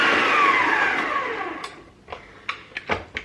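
An electric mixer creams butter and brown sugar on medium speed for a Jamaican fruit cake batter, whirring loudly and steadily before fading out, followed by a few sharp clicks and knocks against the bowl.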